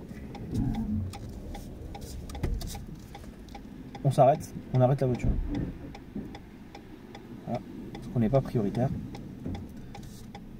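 A car's turn-signal indicator ticks in a steady, fairly quiet rhythm inside the vehicle, running beneath an instructor's voice and low engine rumble.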